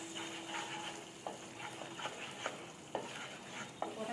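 Sour curd stirred into a pan of vegetarian potol dorma: a steady, soft frying sizzle with several sharp scrapes and taps of a spoon against the pan every second or so, close and moderately quiet, with no voices.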